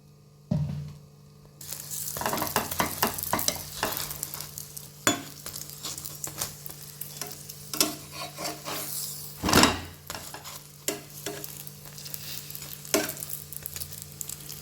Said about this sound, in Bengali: আমি এটা সাদা তেল দিয়ে ভাজছি